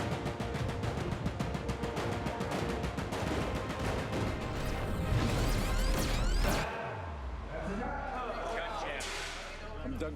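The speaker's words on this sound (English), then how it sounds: "We have a mortar and a propane popper right down here, and we just been throwing debris and fire" Rapid bursts of loud pops and bangs from mortar and propane popper pyrotechnics on a film set crackle continuously, ending in a heavy blast followed by a rumbling, debris-filled tail.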